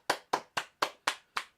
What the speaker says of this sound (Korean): 금메달의 박수.